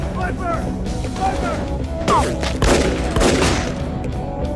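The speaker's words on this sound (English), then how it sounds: "He could accurately return fire with just a handgun while trapped in a web of gunfire on a bridge." Gunfire rattles through a movie shootout on a bridge as a guard returns handgun fire, dense overlapping shots and crashes, loud and continuous beneath a narrating voice.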